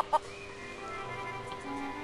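Chickens cluck in The Curse of Monkey Island, on the poultry-filled Puerto Pollo on Plunder Island. One short, sharp cluck sounds early, then a steady game ambience with a faint tonal hum carries on with no talk.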